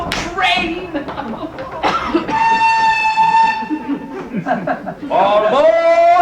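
A stage-play train sound effect in a winter theatre production of The Wind in the Willows gives a sustained whistle-like tone amid chugging noise, with actors talking over and around it.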